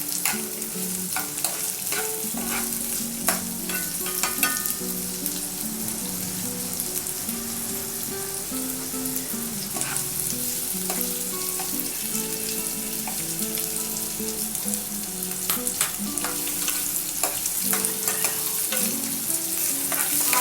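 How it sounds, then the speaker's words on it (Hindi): Roughly chopped capsicum stir-fried in a hot pan, a continuous close sizzle with repeated scraping stirs and light clinks, no one talking. "अब हम इसमें अपने रफली चॉप कैप्सिकम को डाल देंगे। इसे बस स्लाइटली स्टर फ्राई करना है"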